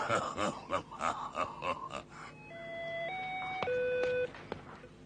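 Voices talk at first, then a telephone rings with a short run of stepped electronic tones, clear and fairly close.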